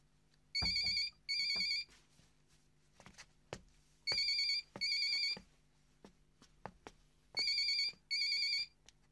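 A telephone rings in a drama scene, three pairs of loud, bright electronic trills in a regular double-ring pattern, with quiet thumps and background noise between them and no talk.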